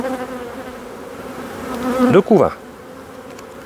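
Honeybees drone steadily from a hive opened on the coast in March, a close, dense buzz that swells briefly as a voice speaks a couple of words over it.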